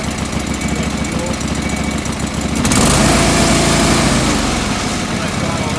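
A John Deere 445 lawn tractor engine throttled up and running rich, a steady loud mechanical drone that swells and grows rougher partway through, with no talk over it.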